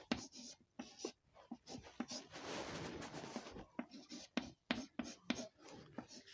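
Handwriting during a Hindi-language English grammar lesson on negative and interrogative sentences with "there", heard as bursts of scratchy pen or chalk strokes with a longer continuous scrawl in the middle, close and moderately loud, with no speech.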